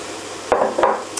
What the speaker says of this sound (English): So I've preheated the pan now, and I'm gonna add celery and leek here.